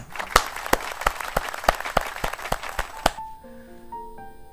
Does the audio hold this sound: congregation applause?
yes